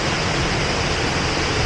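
The Mumbuluma waterfall in Mansa gives off a dense, unbroken roar of falling water, loud and steady from start to finish with no other sounds rising above it.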